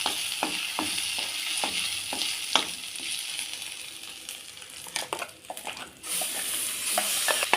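Dried red chillies, curry leaves, turmeric and asafoetida sizzle in hot oil as a tempering for ridge gourd chutney, with a soft steady frying hiss broken by repeated spoon scrapes and taps against the pan.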